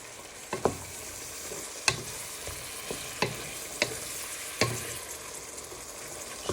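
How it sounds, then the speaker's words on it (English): Onion, carrots and mince fry with a steady low sizzle in a pan, while a spoon stirs and scrapes against it in sharp clacks at irregular intervals, near and clear, with no talking. "You're going to add in all your onion and carrots so they can start to sweat and give out flavour to the mince."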